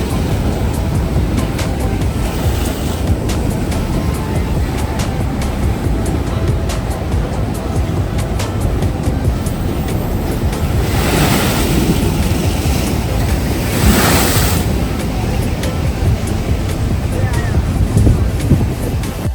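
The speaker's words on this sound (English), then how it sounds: "That was such of a big wave." Big ocean waves crash and splash along the shore near Somnath Temple in Veraval, a continuous loud roar of surf with swelling surges, heavily buffeted by wind noise on the microphone.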